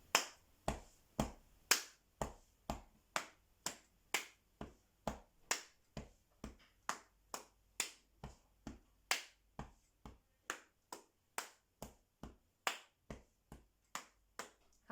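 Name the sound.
body percussion: clapping, patting chest and thighs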